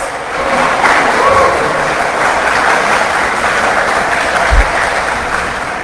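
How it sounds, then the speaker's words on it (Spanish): A crowd gives strong, sustained applause for a musical group at the close of a live event, dense and loud from start to finish. "Un fuerte aplauso"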